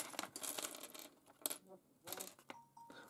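A mobile phone dropping onto a hard surface, a few sharp, faint knocks and clatters spread over about three seconds, with soft rustling between them.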